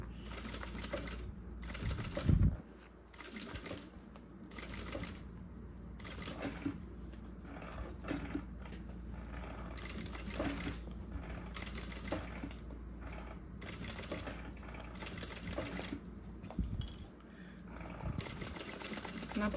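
A home sewing machine stitches a necessaire in repeated bursts of rapid mechanical chatter, each run lasting a second or two and separated by short pauses, heard close and fairly quiet with faint background noise.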